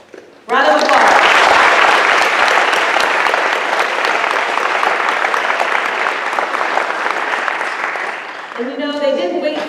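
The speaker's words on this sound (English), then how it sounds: "please give just a huge round of applause for the CSS Inspire team" A large audience of airmen at a CSS Inspire event breaks into loud, sustained applause for the CSS Inspire team. The clapping swells quickly, holds for several seconds and slowly thins as a speaker's voice returns.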